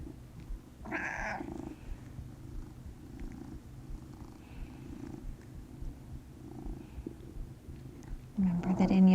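A cat purrs close up in a steady, soft, low rumble during a yoga session. Short bursts of rustling come from petting and shifting on a mat, and a louder thump follows near the end.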